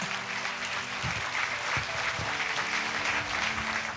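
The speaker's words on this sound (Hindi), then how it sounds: "ताली बजा के प्रभु को धन्यवाद देंगे" A church congregation at a Sunday service claps together in a dense, sustained burst of applause that runs throughout, with some musical tones and a few low thuds underneath.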